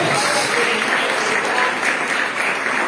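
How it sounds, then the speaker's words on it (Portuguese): Congregational applause for Jesus during a live church service, a dense, continuous crowd of clapping at close range with voices mixed in. "Agora sim podemos aplaudir a Jesus"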